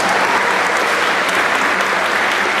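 A large audience claps for students at a middle school promotion ceremony, a loud, dense and continuous wash of applause with no talking on top.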